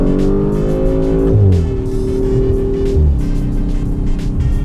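A loud 2021 Audi RS5 Sportback engine revs hard and accelerates up close, its pitch climbing through two quick gear changes.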